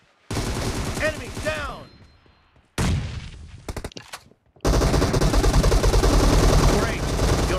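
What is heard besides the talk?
gunfire in a video game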